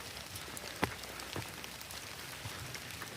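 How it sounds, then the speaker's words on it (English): Light drizzle falls on a wet hiking trail at Pinnacle Mountain State Park in Arkansas, a steady soft hiss with a few scattered drop ticks, faint and with no voices. "You can see the trail's still pretty wet. Got a little bit of drizzle coming down still."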